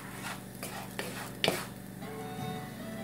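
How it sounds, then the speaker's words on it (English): Rice fries in a pan, giving a quiet sizzle with a few scraping stirs and a sharp utensil knock midway. "you can hear the rice is kind of frying"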